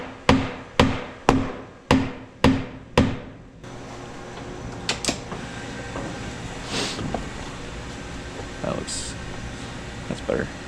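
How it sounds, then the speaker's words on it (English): Six sharp mallet strikes in steady rhythm knock a Can-Am X3 Maverick four-door UTV door down into place, loud and close in a shop, followed by quieter handling, rattles and someone talking. "I'll get a mallet and I'll smack this down a little bit to bring the whole door down"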